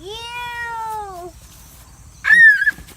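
A cat gives two clear meows, the first a long falling cry and the second a shorter, higher call, close and loud against a quiet room.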